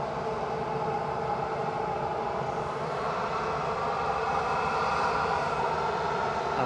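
A Sun Express airliner departs Edinburgh Airport, its jet engines a steady, broad roar that holds at an even level throughout, with no talk.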